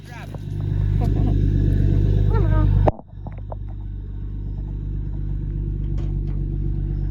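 Engine of a 1966 Ford Falcon Turtle Top van rumbling steadily while driving, loud and continuous with a brief dip near the three-second mark before the drone resumes, a few clicks and knocks over it.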